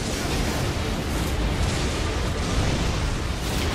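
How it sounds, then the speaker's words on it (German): Explosions in the video game Elden Ring: Shadow of the Erdtree during a fight with the Dancing Lion beast, a dense, continuous roar of blasts and rumbling booms that stays loud for the whole stretch, with no voice over it. "Alles explodiert!"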